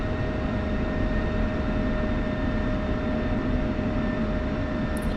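An F-16 taxiing on the ground in a flight simulator game, a loud continuous jet engine roar and whine holding steady throughout, with no voices.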